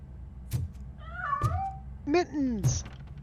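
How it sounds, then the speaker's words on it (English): A cat in RoboCop: Rogue City gives several distinct meows close up, separated by soft thumps and short pauses, with one drawn-out cry near the end. "Mr. Cat. But where are you hiding? Kitty, kitty."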